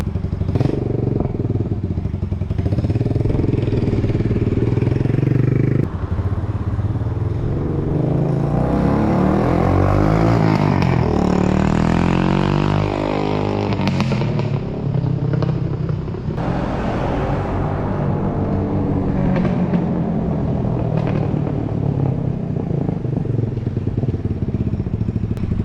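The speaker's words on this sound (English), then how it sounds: "when I rev it, that's what it sounds like" A 250cc café racer motorcycle exhaust revving up and down loudly and continuously, with crackling pops and rumble on the overrun, close to the machine and without talk.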